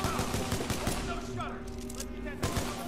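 Rapid gunfire in Titanfall 2 as a player empties a weapon's ammo, a dense run of sharp shots firing back to back for nearly three seconds, with a brief slackening in the middle before the burst resumes.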